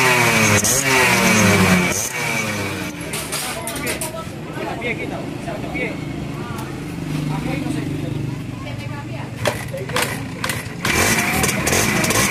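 A Suzuki AX100 two-stroke motorcycle engine revs loudly up and down close by with a buzzing, raspy note, while people talk over it.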